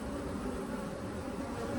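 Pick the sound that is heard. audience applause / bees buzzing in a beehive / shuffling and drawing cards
bees buzzing in a beehive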